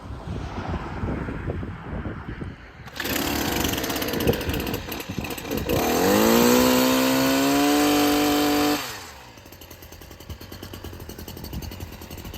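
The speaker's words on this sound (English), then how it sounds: "that Stihl hedge trimmer, it has a lot more vibration to it" A Stihl HS 82R hedge trimmer runs loud and close for several seconds, its engine rising from a rough idle into a steady high-pitched whine at full throttle, then dropping back to a low idle.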